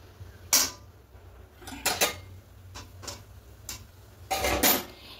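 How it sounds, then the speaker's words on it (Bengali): A metal stand is set into a wok of boiling water for steaming a mango cake: a few scattered metallic clanks and clinks over a low bubbling hum. There is no talking. "এবার এখানে একটা স্ট্যান্ড বসিয়ে দেব।"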